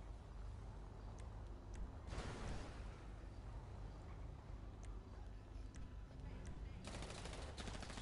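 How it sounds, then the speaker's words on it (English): Gunfire in GTA 5 Online during a car meet: scattered sharp shots and short bursts crack over a steady rumble of engines and background noise, some louder and nearer than others. "Stop shooting him!"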